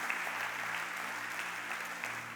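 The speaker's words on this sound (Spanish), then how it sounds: "Cuéntale un aplauso al Señor por eso" A church congregation applauds during a sermon, a steady, soft wash of distant clapping with no distinct individual claps, continuing evenly for a couple of seconds.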